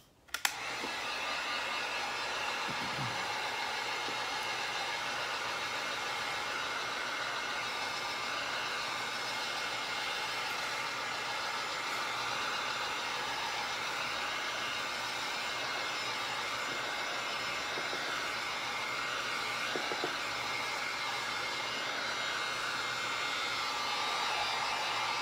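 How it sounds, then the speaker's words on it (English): Heat gun blowing on the paint of a skull prop, a steady close roaring hiss that runs unbroken for about twenty-five seconds after a sharp click at the start, with no talking. "Okay, so let's hit that with a heat gun."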